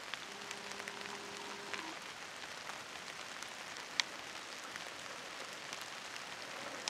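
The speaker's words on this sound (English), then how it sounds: "the rain's just coming down and I'm getting soaking again" Rain falls steadily in the woods during spring shed hunting, a soft, even patter on leaves and ground with a few sharper drops and a brief faint tonal hum early on, no voices.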